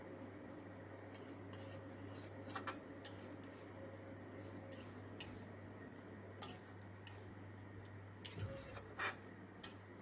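Scattered light metal clicks and scrapes of a spoon against a pan as paneer masala with yogurt is sautéed, faint and intermittent over a steady low hum.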